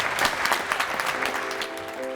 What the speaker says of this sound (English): ask for a round of applause for them